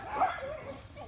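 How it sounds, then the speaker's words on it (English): A single short, high puppy bark or yip, close and fairly loud, followed by a brief whiny tail. "This is a little girl, she's barking at him."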